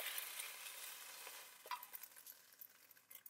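Steak pieces frying in a hot pan, a quiet crackling sizzle with scattered pops and light scraping, close up.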